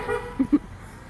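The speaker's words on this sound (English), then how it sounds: "That was the horn that just honked." A car horn gives two short, low honks in quick succession outdoors, alongside a cold-weather charity walk on icy sidewalks with support cars nearby, fairly faint against background noise.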